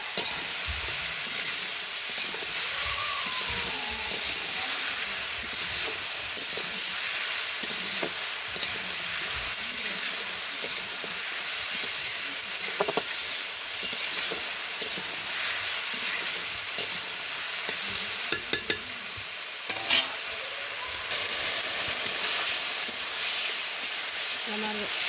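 Vegetables frying in oil in a pan, a continuous dense sizzle and hiss running for the whole stretch with occasional stirring clinks, close by, with no talk.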